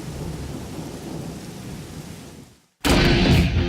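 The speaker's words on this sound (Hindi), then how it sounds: "बारिश भी बहुत हो रही है।" Heavy rain pours steadily with a deep rumble of thunder, breaking off briefly into near silence before a louder, harsher burst of rain and thunder returns.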